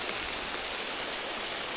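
Steady rain pouring during a mangosteen harvest in an orchard, a dense even hiss of falling water that holds constant and fairly soft throughout, with no distinct voices.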